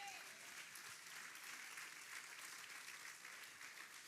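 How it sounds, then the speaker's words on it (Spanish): A church congregation at a Spanish-language sermon claps in sustained, even applause that stays steady and fairly faint throughout, with no voices rising above it. "Dele ese aplauso fuerte a Él."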